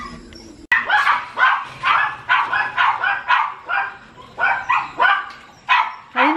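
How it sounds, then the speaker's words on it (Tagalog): A dog barks over and over in a steady run of loud, close yaps, about two per second, after a brief sharp knock at the start. "Ayun na pa yung tahol ng tahol"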